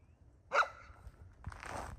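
An Anatolian Shepherd and Great Pyrenees mix gives a single short bark, followed by a softer, breathier yelp a second later, both fairly close in a quiet setting.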